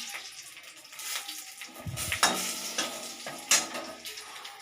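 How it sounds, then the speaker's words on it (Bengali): Green chilies and bay leaves sizzle in hot oil with a steady close crackling hiss, a louder burst of frying and a few spatula scrapes partway through, no voices. "তেল দেওয়া হয়ে গেছে, এতে দুটো কাঁচা লঙ্কা দিয়ে দেবো আর দুটো তেজপাতা দিয়ে দেবো"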